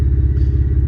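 A 2016 Ford F150 with the 2.7L engine idles through a 4-inch exhaust with a 5-inch tip, giving a deep, steady, pulsing rumble heard up close.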